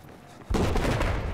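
A sustained burst of automatic gunfire with the trigger held down, from a Battlefield 4 video game rifle fitted with a muzzle brake, kicks in abruptly after a short quiet lead-in and roars on densely and loudly to the end.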